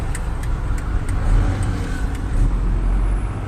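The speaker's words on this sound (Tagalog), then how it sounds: "Traffic guys, traffic." Traffic moves along the National Highway, a continuous close rumble of car and truck engines with passing swells, heard from inside a driving vehicle.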